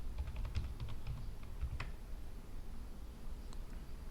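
Computer keyboard typing in close, light irregular clicks of keystrokes, denser at first and then sparser over a faint steady background hum.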